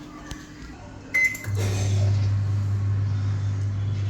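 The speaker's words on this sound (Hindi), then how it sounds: "तो इसको प्री हीट कर लेते हैं 180 डिग्री सेल्सियस पर।" A microwave oven is set to preheat to 180 degrees Celsius for baking: a beep and a click, then a steady low hum starts up and keeps running close by.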